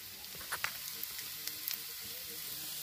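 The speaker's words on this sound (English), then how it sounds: "It is so much better when you pan fry it." Food sizzles steadily in a frying pan, a continuous hissing crackle with small pops and faint stirring, fairly quiet and without talk.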